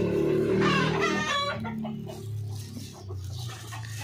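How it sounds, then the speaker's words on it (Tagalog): Chickens on a backyard farm give a loud, close burst of clucking and calling at feeding time, with a crowing-like note near the start and steady poultry chatter continuing throughout. "magsalin muna po tayo ng ating mga feeds, patukan ng ating mga sisiw"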